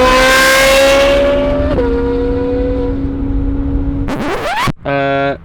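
A Ferrari 458 engine with an IPE titanium exhaust drones at high revs, drops in pitch, then roars through two sharp, rising rev blips with a crisp metallic exhaust note.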